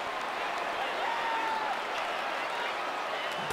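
A large ballpark crowd of over 23,000 in MLB 15 The Show rises and cheers in a steady, distant wash of applause and roar that holds evenly throughout.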